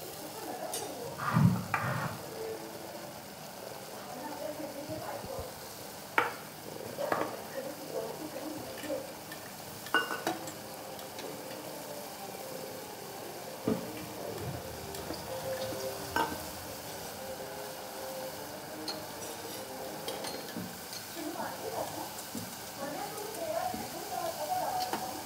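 Masala cooking in oil in a pan until the oil separates, a low steady sizzle with scattered sharp clicks and scrapes of stirring, quiet and close.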